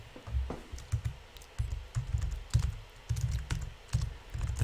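Fingers type on a computer keyboard, giving steady bursts of clicky keystrokes with short pauses between runs, close up and alone with no voices.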